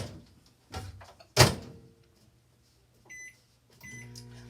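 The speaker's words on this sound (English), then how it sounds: "I'm going to put it in the microwave to soften it up a little bit so I could drizzle it on to make it easy." A microwave oven used to soften a thick topping for sugar-free pumpkin spice muffins: a door thuds shut, keypad beeps sound twice, and then a low, steady running hum starts.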